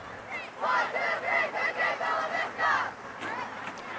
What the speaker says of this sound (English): That was the cheer from West Park.